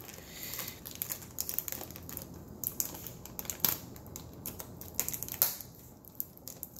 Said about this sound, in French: il faut que je reprenne mon cutter pour ouvrir ça